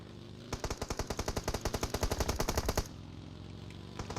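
Rapid automatic gunfire in a video game, a fast burst of around twenty sharp shots in steady rhythm lasting about two seconds, loud and close, then cutting off into background game ambience without voices.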